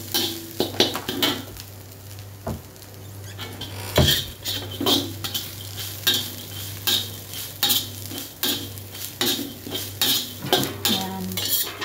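Okra and turmeric stirred in a metal pan, with repeated scraping and clinking of a utensil against the pan in a steady rhythm, close and fairly loud over a low hum.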